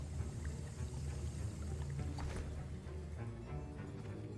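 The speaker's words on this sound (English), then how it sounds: "I see most of you have not forgotten how to stir." A potion is stirred in a cauldron in a Hogwarts video game, giving a steady, close liquid sloshing and swirling that runs unbroken over a low background hum.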